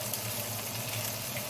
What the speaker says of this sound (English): Look at that sizzle. So sizzling hot pan.